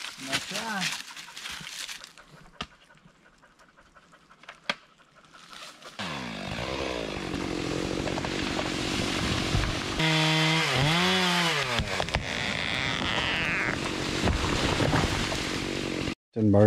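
A chainsaw revs and bites into a hickory log, its engine note rising and dipping under load for about ten seconds, close and loud, after a stretch of quieter outdoor activity with voices.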